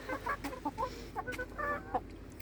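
A chicken clucks close by in a quick run of short, throaty notes, with a couple of brighter squawks among them. No one talks.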